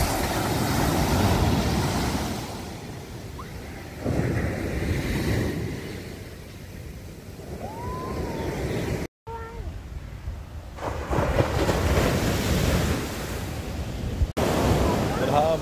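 Ocean surf rolls onto a white-sand Kerala beach at high tide, a steady wash of breaking waves with wind buffeting the microphone; a short dropout interrupts it midway.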